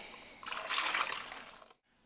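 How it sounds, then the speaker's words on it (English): Milk poured into a custard mixture for bread and butter pudding, a steady liquid splash and trickle lasting about a second and a half before stopping abruptly. "In goes the milk."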